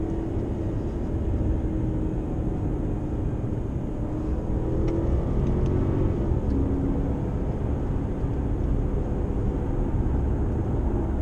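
A 2007 Mercedes-Benz CL550 cruises along a road, a continuous low engine and tire rumble from inside the cabin with a slight swell in pitch midway, steady and fairly loud, no talking.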